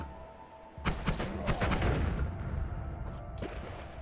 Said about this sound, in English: I'll just drop a bomb here